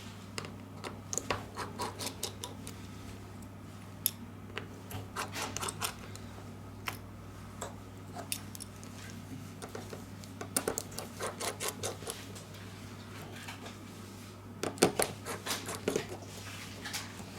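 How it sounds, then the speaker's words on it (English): Tiny screws being removed from a ZTE Nubia M2 phone with a charging fault, heard as close, faint clicks and scratchy ticks of a small screwdriver in irregular bursts over a steady low hum, with no speech. "We remove the screws."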